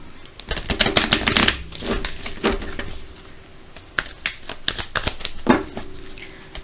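A deck of oracle cards being shuffled and cut, with rapid riffling flutters and papery slaps in quick bursts, close and fairly loud, no speech.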